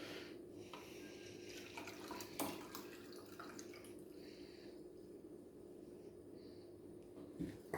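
Juice pours from the container of a Tribest Slowstar juicer in a quiet, continuous trickle with a few soft clinks, faint and steady throughout.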